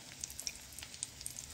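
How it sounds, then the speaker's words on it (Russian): Breaded cutlets made from sausage and cheese frying in a pan, a faint, steady sizzle with scattered tiny pops and crackles, heard alone without talk. "и на сковородочку. Вот так, друзья. Пусть жарятся."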